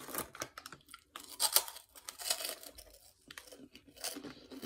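A bag of pigless pork rinds being torn open, crinkly plastic crackling and ripping in quick, close bursts, with brief pauses as the hard-to-open bag resists.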